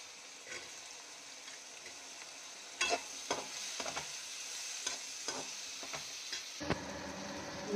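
Capsicum being stir-fried in a pan, a steady sizzle with spatula scrapes and knocks starting midway and recurring every half second or so, close and clear with no talk.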